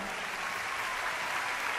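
Loud, dense applause from a concert audience sending off mariachi musicians, a continuous roar of clapping from a large crowd with no voices on top.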